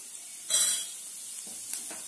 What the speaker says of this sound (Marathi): इथे मी एका पॅन मध्ये तेल गरम करायला ठेवलं आहे. तेल गरम झालं की यात मोहरी